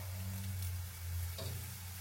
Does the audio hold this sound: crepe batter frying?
yes